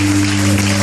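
A church congregation claps together, a short burst of dense, loud applause with a strong steady hum underneath, heard from within the worship hall.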